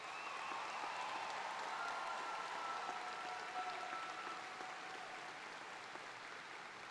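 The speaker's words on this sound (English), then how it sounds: "please give a round of applause for all of our graduates who are scholarship winners" Distant applause from a graduation ceremony audience honoring scholarship-winning graduates, a soft, steady patter of clapping that holds evenly throughout and fades slightly near the end.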